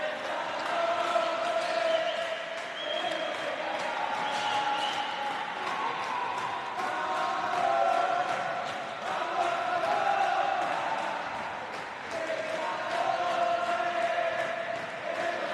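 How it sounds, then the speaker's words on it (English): The Colombian men's team cheers from the stands at a women's roller hockey semi-final between France and Colombia, a lively indoor crowd swelling and fading in waves, with sticks and ball clattering on the rink. "You can all hear the Colombian men's team cheering and boosting on the underdogs for this match"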